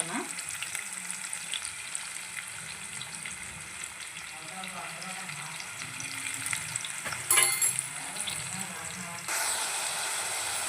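Onions frying in a pan for cabbage palya, with a steady close sizzle and crackle throughout, occasional stirring and a brief clatter, while people talk faintly in the background.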